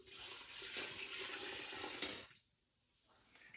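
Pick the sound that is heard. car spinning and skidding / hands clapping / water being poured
water being poured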